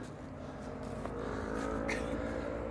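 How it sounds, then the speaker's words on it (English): Motorcycles riding through the Appalachian mountains near Neel Gap, a distant engine drone with a rising rev that carries across an overcast ridge and stays faint but steady. "but you can hear the motorcycles"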